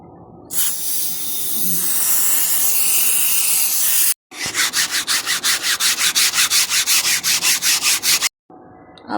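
Foam cleaner hisses out of a spray can in one long, loud burst, then a cloth rubs back and forth across the surface in fast, even, rhythmic strokes, with brief silences between the parts.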